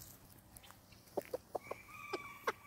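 Guinea fowl call faintly from a homestead, a series of short, sharp, repeated cries spaced irregularly over a quiet background, with one brief drawn-out tone near the end.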